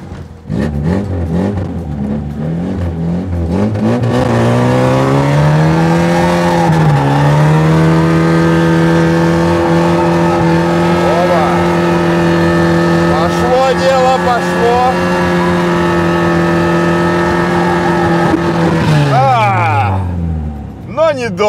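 A car with wheels coated in LineX protective coating accelerating: the engine revs climb steadily in pitch, loud and close, then drop away at the end, with voices talking over it.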